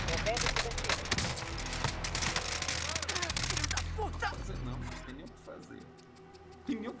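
Rapid pistol gunfire in the video game Call of Duty Warzone crackles in quick bursts over a loud game soundscape and fades out, with players talking over the shots.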